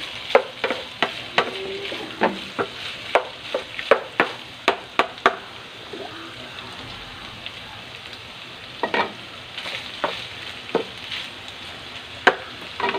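Meat frying in its own rendered fat with ginger in a pan, a constant low sizzle broken by frequent sharp spatula knocks and scrapes in an uneven rhythm.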